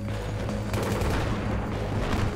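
Sustained machine gun fire in Battlefield 3, a dense unbroken rattle of rapid shots at steady loudness for the whole stretch, close and alone with no voices.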